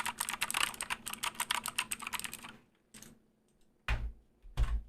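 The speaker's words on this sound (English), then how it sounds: "I get so much joy out of typing on this thing" Fingers type quickly on a computer keyboard, a rapid run of crisp clicks for a couple of seconds, then a pause and a few heavier, isolated key presses close up.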